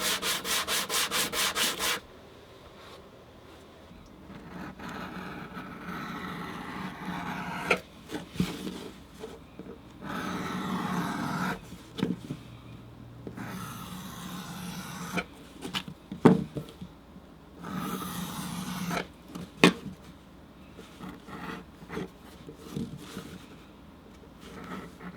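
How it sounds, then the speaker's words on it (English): The folded edge of a leather bracelet is sanded flat by hand, irregular scratchy rubbing strokes in bursts with pauses, close and fairly quiet. "We're going to sand all that down so that we're just basically re-flattening that edge."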